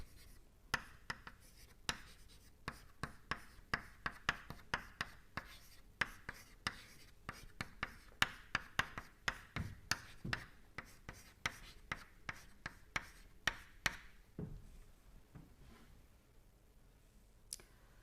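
During a lecture, marker or chalk on a board gives quick, irregular taps and scratchy strokes that repeat in bursts for a long stretch, quiet and close, with no speech.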